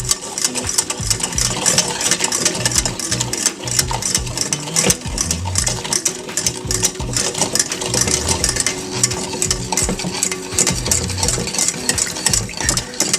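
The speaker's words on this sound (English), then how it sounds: "So you just keep whisking it until it gets like all the sugar melted, all the hot cocoa melted" Rapid, continuous whisking of homemade hot cocoa with sugar and salt, a close, busy metallic rattle and scrape against the pot that keeps a steady rhythm throughout.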